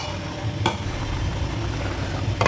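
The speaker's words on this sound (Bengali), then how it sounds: "এরপর মাছগুলো একটা একটা করে দিয়ে দেবো।" Bhetki fish pieces go into hot sizzling masala in a pan, giving a steady close crackle with two sharp bursts as pieces drop in, no talking.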